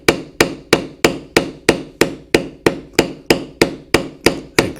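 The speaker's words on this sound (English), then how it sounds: "For the outside of the animal, we will use the number 900. Walk it down, as you can see." A metal leather beveling stamp is struck by a mallet while carving a buffalo figure into leather, giving a steady, evenly spaced series of about fifteen sharp close knocks with no talk.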